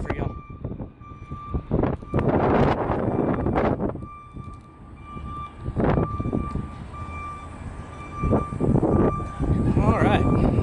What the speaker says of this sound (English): here comes that wind again